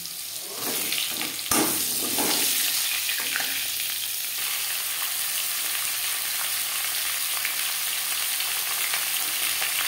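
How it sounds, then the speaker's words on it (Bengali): Potato pieces hit hot oil with cumin seeds and bay leaf, a sharp clatter at the drop followed by a steady, loud, broadband sizzle that holds on without pause. "10-15 সেকেন্ড জিরে তেজপাতা ভেজে নেওয়ার পর দিয়ে দেব টুকরো করে কেটে রাখা আলু"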